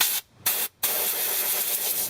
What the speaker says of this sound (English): So I'm using some brake clean, wire brush, and then I have compressed air.